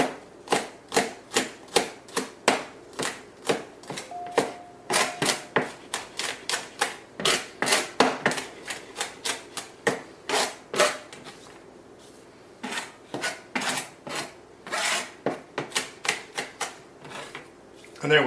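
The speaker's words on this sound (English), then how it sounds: "A little bit of salt on my garlic. It just kind of helps out when you're cutting it." A knife chops garlic sprinkled with salt on a cutting board in quick, crisp, steady taps, close and continuous, with one short pause partway through.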